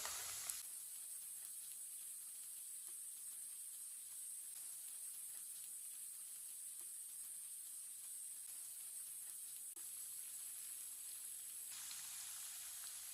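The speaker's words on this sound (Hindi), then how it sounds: "ये वाली साइड से भी 2 मिनट तक पकने देते हैं।" Chicken kulfi kababs frying in a pan, a steady soft sizzle and hiss that holds evenly throughout with no talk.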